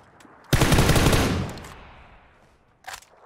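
Rapid burst of SLR rifle fire in a battle-royale shooter game, loud and close for about a second before fading, followed by a brief second burst; no talking.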